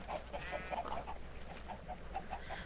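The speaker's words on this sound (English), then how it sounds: "I did put a few more chickens in here" Chickens cluck in a coop, a string of short, moderately close clucks in irregular rhythm over a constant low hum.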